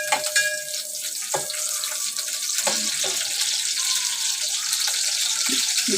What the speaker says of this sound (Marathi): तेल ओतते, आणि ओली मिरची फोडणीला घालते.